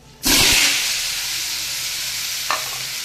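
Elephant foot yam hits hot oil spiced with cinnamon, cardamom, cumin, cloves and a bay leaf, bursting into a loud sizzle with a stirring clatter, then settling into a steady frying hiss with a brief scrape near the end.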